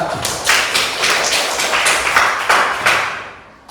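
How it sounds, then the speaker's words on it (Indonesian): Classroom applause from students in an Indonesian lesson, heard as a brief burst of scattered, uneven claps with tapping thuds, close and fairly loud, fading toward the end. "tepuk tangan kepada kawan kita"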